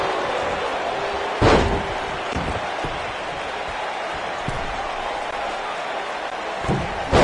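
Heavy body slam impact in the WWE 2K19 wrestling video game, a sharp loud thud near the start and another at the very end, over steady arena crowd noise.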